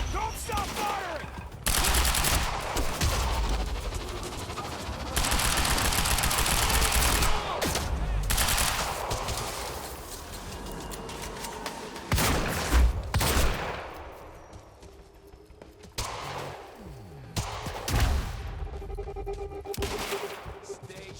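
Bursts of automatic gunfire and fusillades from a Quantum Break firefight at a research facility, loud and sustained with brief pauses, with shouted voices in between.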